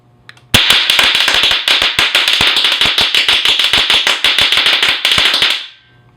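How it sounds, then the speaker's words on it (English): Electronic firecracker with two firecrackers in an enclosure, set off by wireless remote, firing a loud, rapid string of sharp pops for about five seconds before cutting off. "So basically, it's two Firecrackers that are placed in an enclosure."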